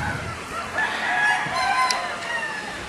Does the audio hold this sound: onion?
no